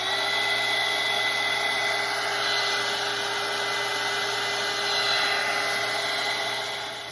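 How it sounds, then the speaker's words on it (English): A hair dryer blows steadily and loudly at close range over a watercolor painting, a continuous airy whir with slight swells in level, running alone without talk. "So I'm gonna grab my dryer now and I'm gonna dry this so that I can move on."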